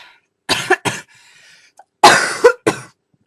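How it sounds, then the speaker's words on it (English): A run of harsh coughs from a person with pneumonia, a couple of quick bursts, a short pause, then two or three more loud hacking coughs close to the microphone. "a lot of things trigger me to cough, and I've been coughing a lot"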